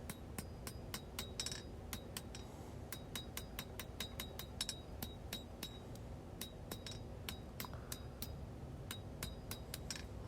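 A hammer strikes a hot steel blade on an anvil as the front of the handle is hand forged, giving a steady stream of sharp, ringing metallic blows in quick rhythmic bursts with brief pauses, heard close but recorded quietly.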